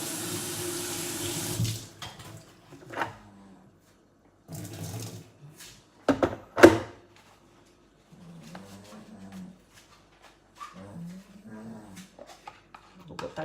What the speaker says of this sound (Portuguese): Deixa eu lavar aqui minha colherzinha